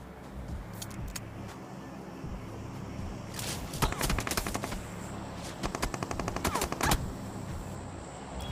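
UMP submachine gun fire in a video game comes in two rapid bursts of sharp, tightly spaced shots midway through, fairly quiet over a low background rumble.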